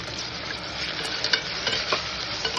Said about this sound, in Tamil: வெங்காயம்லாம் வதங்கிறதுக்காக போட்டுக்கலாம்.